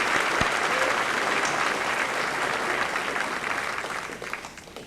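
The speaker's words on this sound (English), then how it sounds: "Let's give Ryan a nice round of applause." Sustained applause from an audience at a 2002 high school senior assembly fills the space, dense and steady, slowly easing off toward the end with no voices over it.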